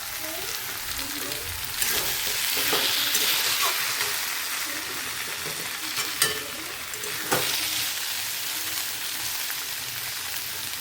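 Vegetable curry with cauliflower frying in a wok, a continuous close sizzle with the scrape and knock of a spatula stirring at intervals.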